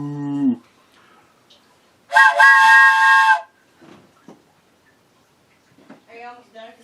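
A person imitates a train whistle with a loud, sustained, reedy hoot lasting over a second, set between short bits of nearby talk.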